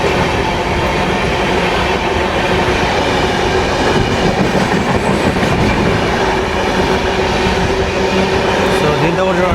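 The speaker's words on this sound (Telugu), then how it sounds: "ఖానాపూర్ నుంచి బెంగళూరుకి వెళ్ళే సంఘమిత్ర సూపర్ ఫాస్ట్ ఎక్స్ప్రెస్ అండి ఇది" The Sanghamitra Superfast Express, bound from SMVT Bengaluru to Danapur, rumbles past up close, loud and continuous, with rattling carriages, clattering wheels and a brief wheel squeal.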